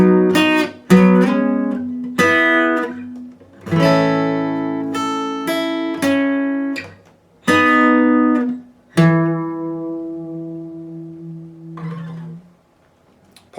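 Electric guitar playing part 4 of the second verse of a song, a run of plucked notes and ringing chords in short phrases separated by brief gaps, played solo, clear and close.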